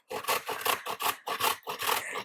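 Fresh carrots are grated on a grater held on its side, a series of about seven rhythmic, close rasping strokes, each scrape evenly spaced, with no talking.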